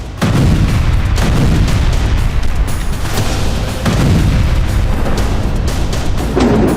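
Bombs and missiles strike Ukrainian cities in a Russian attack, a relentless series of loud booms and blasts with crackling bursts filling the whole stretch, close and heavy, with no clear talk.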